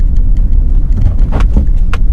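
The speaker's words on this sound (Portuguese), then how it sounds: "O carro não chega a bater, ele apenas raspa." Hyundai HB20 Unique scraping its underbody over a speed bump taken at about 30 km/h, a low rumbling car passage with a couple of brief scrapes standing out above the steady road noise.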